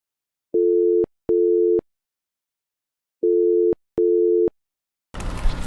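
Ringback tone of a phone call connecting in the video game Doctor Who: The Lonely Assassins: two pairs of steady electronic beeps separated by a pause, clean and loud, ending in a burst of line noise as the call picks up.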